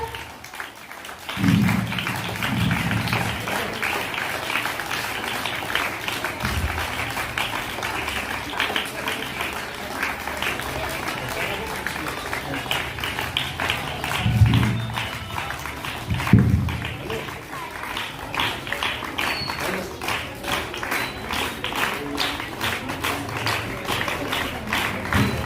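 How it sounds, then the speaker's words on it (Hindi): An audience at a girls' middle school Independence Day program in Pivdai keeps up sustained clapping, a continuous patter under someone speaking over a loudspeaker, with a few heavier thumps along the way. "इन महकते फूलों को ताली बजती रहना चाहिए।"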